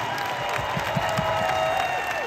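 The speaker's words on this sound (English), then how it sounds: "So please give each and every member of our crew a huge round of applause" Concert arena audience at a show at Mohegan Sun Arena applauding the road crew, a steady wash of clapping and crowd noise with faint cheering, sustained throughout.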